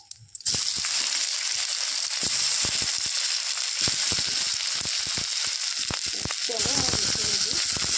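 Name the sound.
potatoes frying in oil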